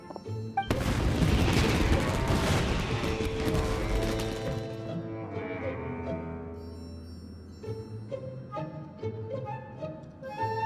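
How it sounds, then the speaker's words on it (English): Fireworks burst in the video game Genshin Impact: a dense, loud crackling explosion that fades over several seconds, followed by bright melodic game music with chiming notes. "Yoimiya, this is turning into a bit of a fireworks display."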